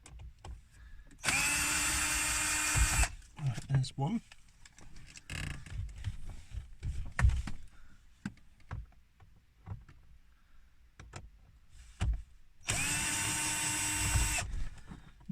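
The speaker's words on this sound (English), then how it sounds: "Right, let's fire up the drill. So we'll need that on reverse." A power drill set to reverse whirs loudly in two bursts of about two seconds each, backing screws out of a K11 car interior trim, with clicks, handling and a brief spoken remark between runs.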